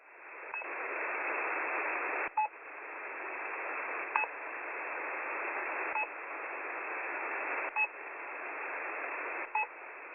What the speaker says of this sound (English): the one on 5780 kHz that started as a pip sound